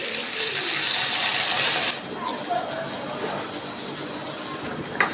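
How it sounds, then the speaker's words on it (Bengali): Water pours into a pan of cooking pointed gourd for an egg and gourd curry, a loud, steady splashing rush for about two seconds that then cuts off, leaving quieter kitchen sounds. "আমি এবার জল দিয়ে দিচ্ছি।"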